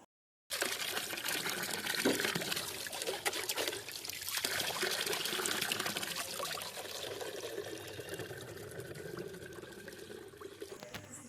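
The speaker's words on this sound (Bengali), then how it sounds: "আমি গ্লাভস পরে জল ভরছি" Water pours steadily into containers being filled by a gloved hand, a continuous close splashing trickle that runs for the whole stretch without pause.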